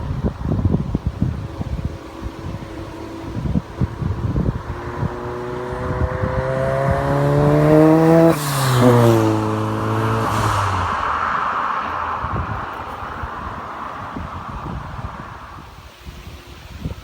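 A Ford Sierra RS Cosworth YB rally car passes on a road, engine note rising as it approaches, revving loudly with harmonics sweeping up, then dropping in pitch as it roars past and fades into wind.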